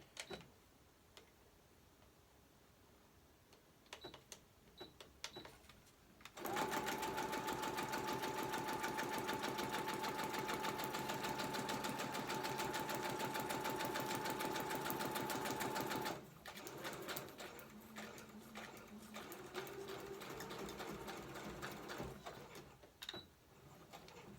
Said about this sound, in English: So right now I think I might have enough thread to sew this.